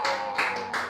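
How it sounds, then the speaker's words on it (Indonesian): A short burst of applause for the India community at a live show, with several quick rounds of clapping over about a second. "Dan tepuk tangan dulu untuk komunitas India."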